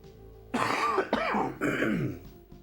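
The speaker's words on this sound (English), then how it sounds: "Apparently I just needed to cough." A person coughs and clears their throat in a few harsh bursts, close and fairly loud against a quiet background.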